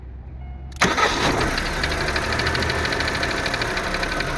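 A Daewoo Nexia engine cranks and fires after a quiet moment, then settles into a loud, rough, close idle with a steady pulsing beat, no voices.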